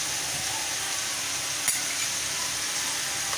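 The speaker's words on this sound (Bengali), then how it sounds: "এই যে আদা বেটে রেখেছিলাম আদা দিয়ে দিলাম" Ground ginger paste hits a hot pan of oil with a steady, close sizzle, a soft clink of a utensil cutting through once midway, no talking.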